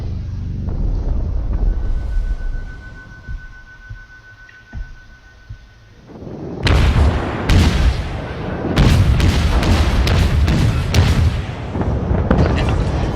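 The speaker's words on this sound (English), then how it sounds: "And I gotta do some more shooting here." Warship guns fire and shells explode in the naval battle game World of Warships, first a low rumbling background, then a run of loud, booming salvos and blasts in quick succession, with a voice talking over parts.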